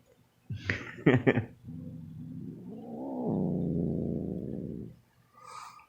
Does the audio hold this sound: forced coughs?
no